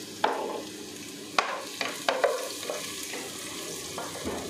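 Cardamom, cloves, chopped garlic and cinnamon sticks go into a hot pan for crab kabsa: a few sharp, close taps as the spices drop in, each followed by a soft, fading sizzle and light stirring.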